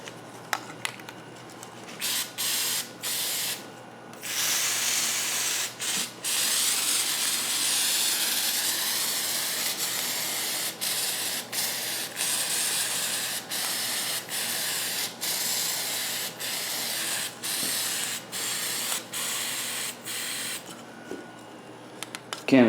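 Flex Seal sprayed from an aerosol can in bursts, a loud close hiss repeatedly starting and stopping as the can sputters toward empty, with faint birdsong in the background.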